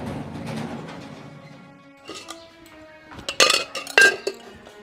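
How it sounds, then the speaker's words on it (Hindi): Dishes, pots and utensils being washed by hand in a rural Haryanvi household, with scattered metallic clinks and clatters growing louder toward the end, two sharp clusters of clanking standing out near the finish. "बर्तन धोऊं सू"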